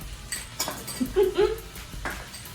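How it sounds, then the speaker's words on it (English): Two small portions of scrambled eggs dumped into a hot pan of fried rice, a few soft close clinks and scrapes of utensil against pan with a faint sizzle, while someone talks over it. "I'm gonna take my 2 little scrambled eggs, there we go, and dump them in"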